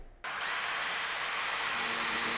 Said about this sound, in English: we're going to use a Makita on hammer action on speed 1